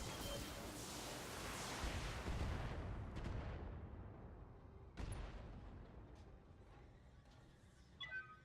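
Mech weapons fire together in the BattleTech video game: a loud, sustained barrage of booming blasts rolls and slowly fades, then a single sharp explosion lands, followed by quieter impacts and one last crack.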